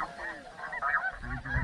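Goose and duck calls sound out in bursts during a cold-weather mallard and goose hunt, fairly close, with honking that grows heavier and lower toward the end and faint voices mixed in.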